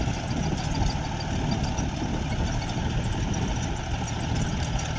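An old John Deere tractor engine runs steadily and loudly nearby, a continuous low, knocking chug with no breaks and no talking.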